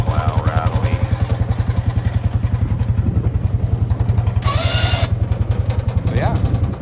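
A custom plow mounted on a Can-Am Outlander 700 ATV rattles steadily over the loud, rhythmic idle of the engine, with brief voices and a short burst of hiss partway through.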